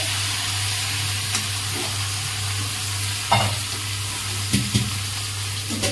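Turmeric frying in a pan, with a steady hiss and sizzle over a low hum and a few scattered stirring scrapes toward the end.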